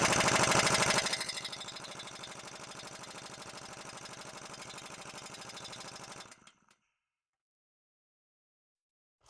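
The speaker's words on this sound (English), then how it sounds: "Apparently my little old low duty impact wrench here, only rated for 90 psi, isn't enough juice to start breaking these loose." A low-duty air impact wrench rated for 90 psi hammers loudly against stubborn bolts while removing a lift kit from a 2000 Ford F250, a strong burst at first easing into steady rattling for about six seconds, then silence.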